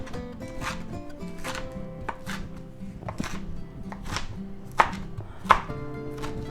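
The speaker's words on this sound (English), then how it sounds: "we're going to go ahead and chop up some of our spinach leaves here, coarsely chop them" A knife coarsely chops spinach leaves on a board, a close, fairly regular series of thuds and crisp cuts, with two sharper knocks near the end and no talking.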